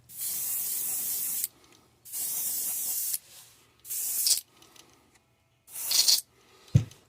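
Aerosol can of silver spray paint coating a crankbait fishing lure: several bursts of steady close hiss lasting about a second each, separated by pauses, ending with a light clack.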